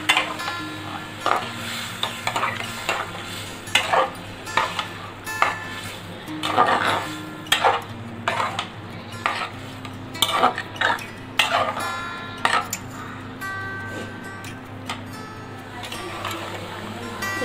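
Boiled rajma and its cooking water go into a pot of well-fried masala and get stirred, giving repeated scraping, knocking clinks of a spoon against the pot over a low steady simmer, with no talking.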